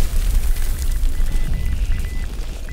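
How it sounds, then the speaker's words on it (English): A grenade blast in the video game Hell Let Loose rumbles as a deep, sustained boom close by, with heavy low-end noise rolling on for several seconds and no talk. "I just got a nade near you."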